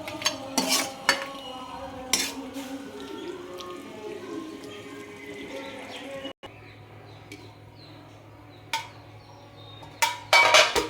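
A spoon scraping and clinking against a pot of mutton curry being stirred after masala is added, intermittent metallic taps over a steady low hum, with birds chirping faintly in the background.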